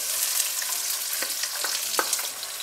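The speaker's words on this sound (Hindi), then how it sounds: "और अब इसमें हम डाल देंगे कटे हुए प्याज।" Chopped onions sizzle in about half a cup of oil in a pot over a medium flame: a steady, even frying hiss with a few soft stirring clicks, alone and moderately quiet.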